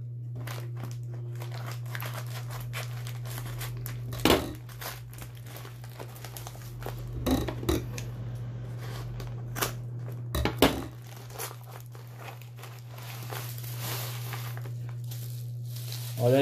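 Scissors snipping and crinkling through packaging as a parcel of received gifts is opened, a few sharp crisp cuts and crackles over a steady low hum, fairly close and quiet.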